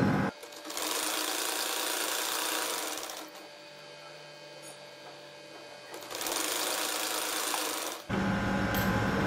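A sewing machine stitches a fabric frill strip in two long, fast whirring runs and a short third burst, close and clear, with quieter handling of cloth in between.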